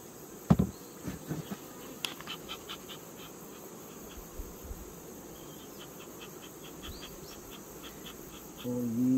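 Honeybees from a purchased colony hum at their hive during winter feeding, a faint, steady drone with a few sharp clicks and taps near the start.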